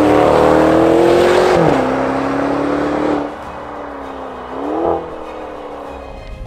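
A 2021 Maserati Levante Trofeo with an all-aluminium Ferrari-built 3.8 V8 biturbo drones loudly at high revs, dips as it shifts, then settles to a quieter cruise before a short swell of throttle.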